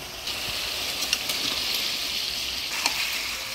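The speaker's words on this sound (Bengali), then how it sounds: "এবার দিয়ে দিচ্ছি সিদ্ধ করে রাখা মাংস" Boiled mutton going into a pan of spice masala, village-style, setting off a steady loud sizzle and frying hiss, with light stirring scrapes and a few brief pops.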